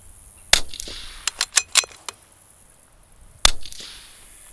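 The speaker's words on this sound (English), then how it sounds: "We're gonna fire our initial 5-shot group." A .22LR rifle fitted with a barrel tuner fires an initial five-shot group at an outdoor range: sharp, distinct cracks spaced irregularly, the last after a longer pause, with no talking.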